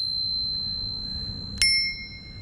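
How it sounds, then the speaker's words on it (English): A single bright ding from an aftermarket bell mounted on an e-bike, ringing out sharply and then sustaining a clear metallic tone that slowly fades, with a faint lingering tone before the strike. "I added this bell right here."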